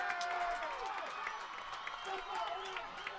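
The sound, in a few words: crowd cheering at junior hockey match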